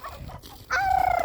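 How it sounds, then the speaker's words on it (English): Farm turkeys call loudly nearby, a short burst of fowl noise rising into a strong, sustained gobbling cry at the end, with no talking. "as you can hear, these turkeys are loud"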